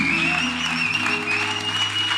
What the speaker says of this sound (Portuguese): Você pode aplaudir esse Deus aí?